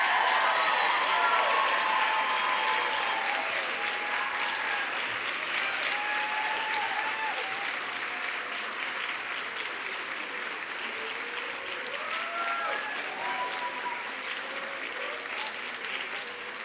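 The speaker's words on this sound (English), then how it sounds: "One more round of applause." Sustained applause from a large audience at a graduation ceremony for a class of 2023, steady and dense throughout with a slight fade toward the end and faint cheering within.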